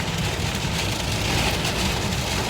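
Heavy rain pours down steadily on a car while driving through a rainstorm, a dense, loud, unbroken wash of noise from inside the vehicle.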